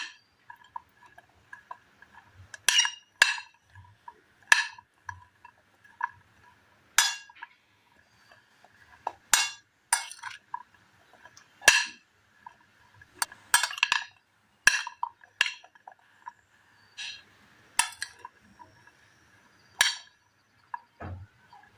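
Grated coconut being mixed into an old-style snack in a dish, heard as sparse, irregular clinks and taps of a utensil against the bowl, with quiet gaps between strikes and no talking.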